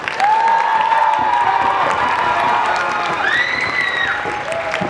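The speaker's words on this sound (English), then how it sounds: "Give everybody a round of applause." A high school senior debate audience breaks into loud, sustained applause with cheering and a few whistles, filling the hall steadily for several seconds.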